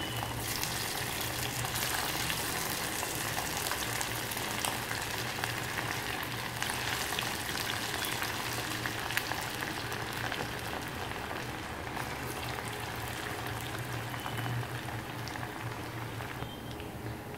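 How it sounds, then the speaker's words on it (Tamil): Cauliflower pieces fry in hot cooking oil in a home kitchen, giving a steady, loud, continuous sizzle and bubbling crackle that holds unbroken throughout. "காலிஃப்ளவர் ஃப்ரை பண்ணுறதுக்காக எண்ணெய் வச்சுருக்கேன்"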